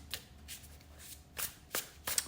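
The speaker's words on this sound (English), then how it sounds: "let's shuffle your deck" A tarot card deck being shuffled by hand, with several short, crisp riffling bursts spaced irregularly, close and quiet with no speech.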